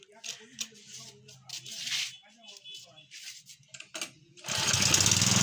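A Chinese petrol water pump engine catches after a pull-start and settles into a loud, steady running drone in the last second, preceded by bursts of voices and handling noise.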